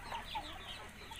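Village chickens cluck softly and continuously in a coop, faint and distant with no voices.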